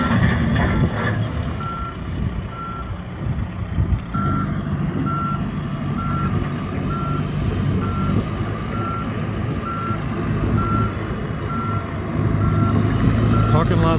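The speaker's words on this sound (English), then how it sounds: "We've got a tractor here grading in the parking lot." A tractor grading a beach parking lot in Morro Bay, California, emits a steady series of reversing beeps over its rumbling engine, with wind and a brief voice early on.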